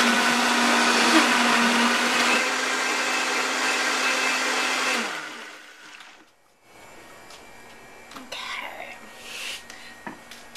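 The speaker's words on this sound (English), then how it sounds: "helps keep things moving along in the Vitamix." A Vitamix blender whirs loudly and steadily while blending a smoothie, then winds down and stops about halfway through, leaving quiet kitchen clatter.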